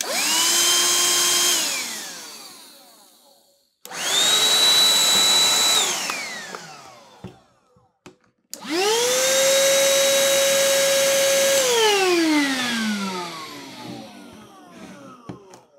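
Three Black and Decker Dustbuster handheld vacuums run one after another, each a loud close motor whine that spins up, holds steady, then winds down with falling pitch.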